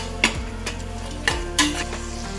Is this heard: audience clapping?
no